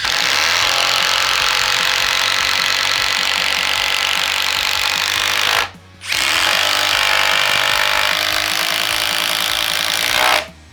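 A Makita impact driver drives a 6-inch Spax screw into wood, giving a loud, continuous hammering buzz in two long bursts with a brief stop between them.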